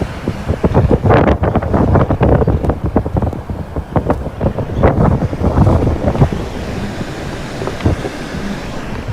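Blizzard wind gusts from a monster winter storm sweeping from Indiana into Ontario and Quebec, roaring loud and continuous with repeated surging buffets battering the microphone, no voices.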